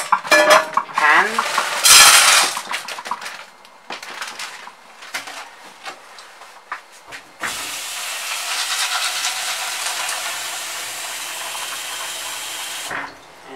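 Mixed vegetables stirred in a pan while cooking lasagne, with scraping clatters and bursts of bright sizzle, then a long steady frying hiss in the second half; no talking.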